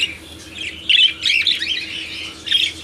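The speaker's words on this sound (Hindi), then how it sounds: "ये सारे फेलो कॉकटेल हैं।" Fallow cockatiels in a flight cage give shrill, harsh squawks in close, repeated bursts, loud and unaccompanied by talk.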